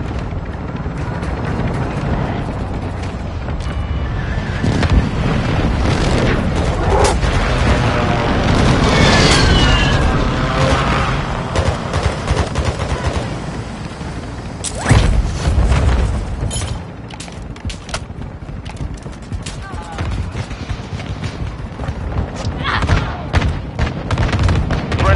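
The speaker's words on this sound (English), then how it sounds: "Friendly airstrike in the AO." Heavy booms and rumbling blasts from an airstrike in a military shooter game roll on continuously, with a sharp loud burst midway and dense battle noise throughout, crowded and close.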